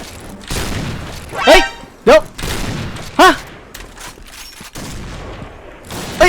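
Sniper rifle gunfire in a shooting video game, several loud sharp shots spaced a second or so apart over a busy game soundscape.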